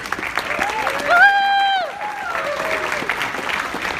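An audience applauds for John with steady, dense clapping that fills the clip, while a loud whooping cheer rises above it near the start and gliding voices carry on through the middle.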